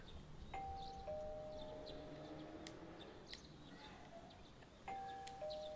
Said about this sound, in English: I heard the doorbell